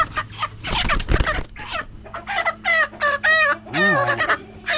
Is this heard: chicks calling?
yes